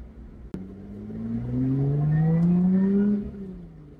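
A Lotus Exige 410S sports car engine revs up, its pitch climbing steadily and then dropping off, loud and close, with no one speaking.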